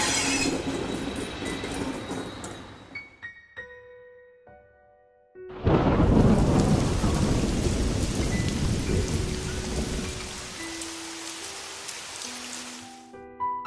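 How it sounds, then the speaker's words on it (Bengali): A heavy rainstorm with thunder, opening with a deep rumbling roll that fades out, then a sudden loud downpour roaring steadily for several seconds, with low sustained tones drifting underneath. "এক পশলা ঝড়ও হয়ে গেল এর মধ্যে"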